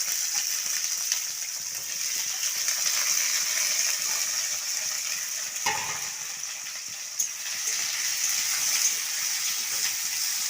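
Onions frying in hot oil in a pan, a steady close crackling sizzle with occasional stirring scrapes and a single clatter partway through, no speech.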